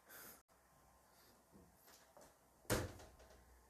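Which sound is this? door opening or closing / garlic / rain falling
door opening or closing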